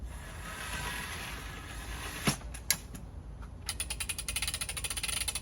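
A Simply Shade 11 ft LED umbrella's canopy crank mechanism being wound by hand, quiet creaks and a couple of sharp clicks giving way to a steady rapid run of faint ratcheting ticks near the end.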